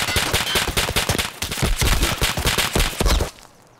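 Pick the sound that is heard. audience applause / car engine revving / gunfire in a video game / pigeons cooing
gunfire in a video game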